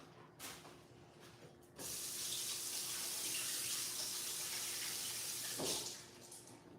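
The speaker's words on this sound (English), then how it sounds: "I'm gonna wash my hands" Water runs steadily from a kitchen sink tap for several seconds while hands are washed, rising abruptly after a soft start and then cutting back near the end, close and fairly loud.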